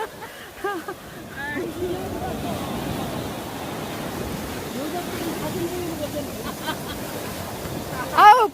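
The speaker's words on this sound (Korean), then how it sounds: "파도 소리가 너무 좋아. 철썩 철썩." Waves washing onto the sand at Moraeul beach on Daecheongdo island, Ongjin, Incheon: a steady, moderate surf wash fills the scene while people chat nearby.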